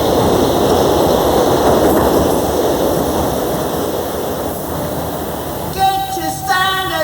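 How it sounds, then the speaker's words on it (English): A train rumbles past in a steady, loud roar that gradually eases, while faint talk mixes in and a sharp whistle sounds near the end. "Oi! Stop that train!"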